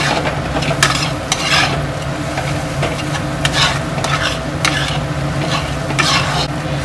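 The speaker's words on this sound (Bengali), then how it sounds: "এবার ভালো করে আমি এটাকে কষিয়ে নেব।" Masala with Kashmiri red chilli sautés in a pan, a steady close sizzle and crackle broken by repeated scraping strokes of a spatula stirring the spices.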